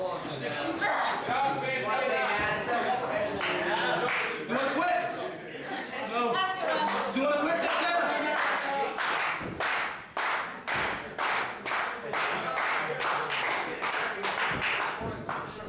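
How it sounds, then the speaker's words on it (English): Wrestling arena crowd rallying behind a female wrestler, with loud sustained cheering and a burst of rhythmic unison clapping in the second half, all under ongoing commentary. "You can hear the crowd rally behind Santana."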